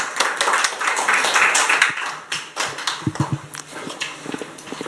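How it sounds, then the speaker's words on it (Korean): Audience at a panel discussion clapping to welcome the next speaker, a short burst of scattered hand claps, loudest at first and thinning out into a few isolated claps. "박수로 모시도록 하겠습니다"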